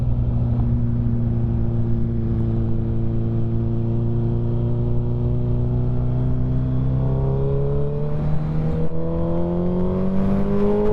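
A motorcycle rides off on a cold 45-degree morning, its engine note droning loud and close, then rising steadily in pitch as it accelerates, with continuous wind rush beneath.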